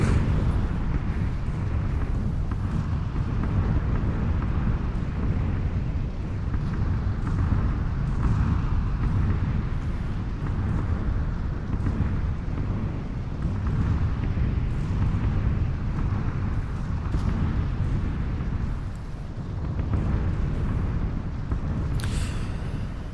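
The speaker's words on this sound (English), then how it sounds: "Bombs are dropping outside." Bombs dropping in PlayerUnknown's Battlegrounds rumble as a continuous low, dense roar of distant explosions, steady and heavy throughout with no talking.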